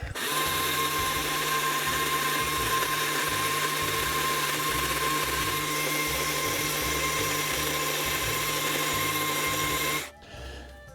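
A chainsaw carving a wooden Sasquatch sculpture whines loudly and close, its engine pitch pulsing as it cuts for about ten seconds before cutting out abruptly.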